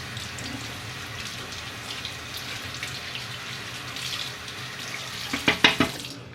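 Water runs steadily from a tap into a sink while keycaps from a Commodore 64C keyboard are rinsed. A few splashy bursts and clatters come near the end.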